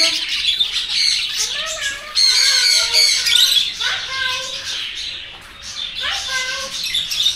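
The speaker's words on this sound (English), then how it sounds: "Java sparrow. You can see here, Java finch." Java sparrows in an aviary at Garuda Park in Pondicherry give loud, close, bright chirps and squawky calls in quick overlapping bursts, with a faint voice or child's sounds now and then.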